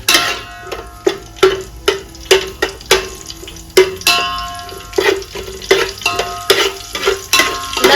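Whole biryani spices such as cinnamon, cloves, star anise and bay leaf fry in a pan, with loud rhythmic metallic scrapes and clanks of a spoon stirring against the pan over a light sizzle.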